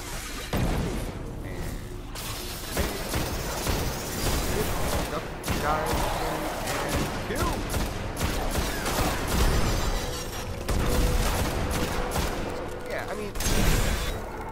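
Gunfire rattles through a firefight in the video game Destiny, dense and continuous with explosions and crashes blended in, loud and steady for the whole stretch.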